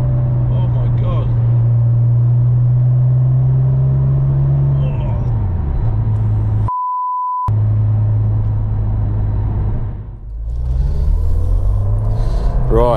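A Ford Escort Cosworth engine drones loud and close, its pitch climbing as it accelerates, cut briefly by a steady electronic tone before the engine note resumes and rises again.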